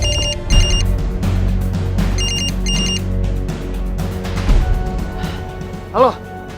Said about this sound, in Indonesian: Aku telepon Rangga